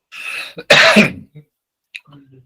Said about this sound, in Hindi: अचानक खांसी हो गई है।